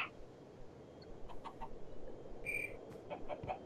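Minecraft chickens clucking in a few short bursts over a steady background hum, moderately near, with no talking.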